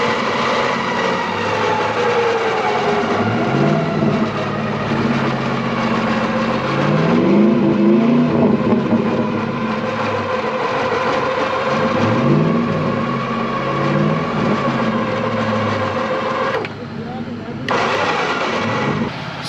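Three trucks hooked together through one snatch block rev their engines hard to drag a stuck Ford and a heavy Jeep, a loud, steady, droning roar that surges and bogs throughout.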